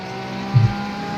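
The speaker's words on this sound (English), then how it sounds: "So the Mustang from outside the car sounds so good" Ford Mustang race car in a racing game, its engine droning steadily and loudly with a brief surge in the middle, heard from outside the car at Mugello with no talking.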